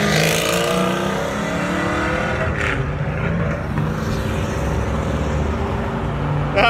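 Pontiac GTO muscle car at a burnout event, its engine roaring loudly and continuously with revving surges and a brief sharp spike midway.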